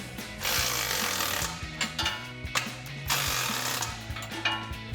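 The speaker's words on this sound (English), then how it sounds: "we'll take a 17mm socket and wrench to evenly tighten this down" A 17mm socket and wrench tighten the exhaust flange bolts on a 2015-2020 Ford F-150, giving faint, close metallic ratcheting and scraping in short repeated bursts.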